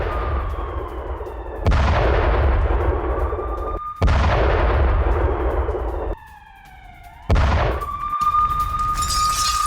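Heavy artillery fire in a Ukrainian attack near Bakhmut booms in several separate, loud blasts spaced a couple of seconds apart, each followed by a long rumbling tail, with a whistling tone between them.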